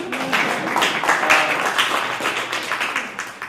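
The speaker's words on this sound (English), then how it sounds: "You can clap if you want." A live audience at a panel event claps steadily and fairly loudly for several seconds, the dense patter of many hands filling the room with a brief voice mixed in.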